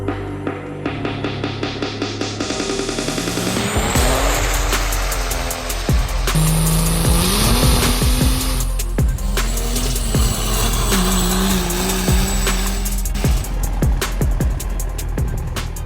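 Ford King Ranch pickup with a 6.0-liter diesel running close by, a steady engine drone with a rising and falling turbo whistle layered over it throughout, no voices.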